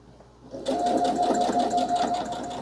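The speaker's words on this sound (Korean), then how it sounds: "이 정도 좀 넉넉하게 박음질 해주고 시작하겠습니다." A sewing machine stitches fabric for an apron, starting after a brief quiet moment and then running steadily and close for a couple of seconds, with a fast, even mechanical rhythm.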